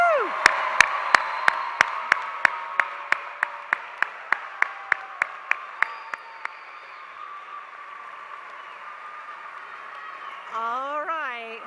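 Graduates at a high school commencement ceremony receive rhythmic, evenly spaced claps that fade after several seconds into a broad crowd hum, with a voice near the end.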